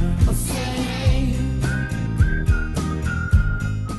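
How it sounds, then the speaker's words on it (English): A gas pump gives a bright, sustained whistled tune over a thumping music track, the melody held in long steady notes at moderate volume. "How about going to fill up and you got a whistling gas pump?"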